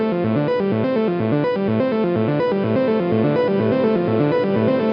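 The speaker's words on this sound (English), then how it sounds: "it has its own reverb" A synthesizer with its own built-in reverb plays a steady, repeating melodic pattern with a distorted, effect-laden tone, loud and continuous, in a techno production setting with no talk.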